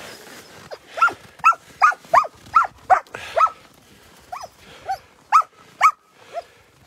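About a dozen sharp yelps and barks ring out from sled dogs in a mushers' dog yard. They come in a quick, fairly regular series at mid distance, with a faint murmur behind them.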